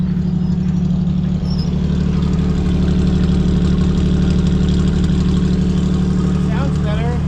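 A rough 1969 Jeep CJ5 engine with a timing problem idles steadily up close, a low rumbling throb with a slight uneven miss, continuous throughout.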